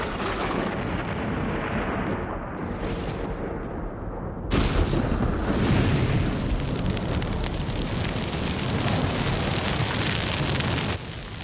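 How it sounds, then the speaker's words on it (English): An electric storm over the desert crackles and rumbles loudly, with a dense, sustained wash of rumbling thunder and crackling noise that surges stronger midway through and keeps roaring without pause. "Even in the desert, the sky can crackle to the beat of electric storms."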